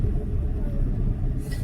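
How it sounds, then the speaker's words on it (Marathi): Road traffic with a steady low rumble of passing vehicles heard from inside a car on the road to Jamner, continuous and fairly loud, with a brief higher hiss near the end. "ट्रॅफिक"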